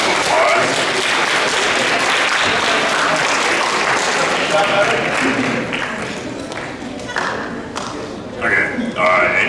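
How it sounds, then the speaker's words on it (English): Audience applause at a high school career panel, full and continuous at first, then thinning and fading out toward the end as a few last claps and voices come through. "Get a round of applause."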